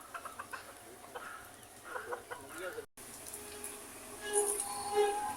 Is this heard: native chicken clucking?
yes